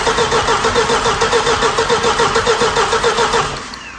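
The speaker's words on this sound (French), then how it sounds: "Moteur tourné, démarreur tourné." A car engine cranks over with the starter in a steady pulsing whir, loud and close, then slows and fades near the end.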